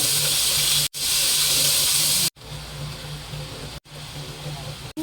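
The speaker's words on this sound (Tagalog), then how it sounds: "ipiprito na natin." Marinated pork ribs fry in hot oil, giving a loud, steady broadband sizzle broken by a few brief silent cuts, with the hiss dropping slightly in intensity after the first few seconds.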